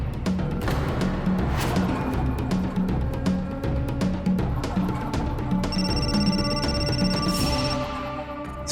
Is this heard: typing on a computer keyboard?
no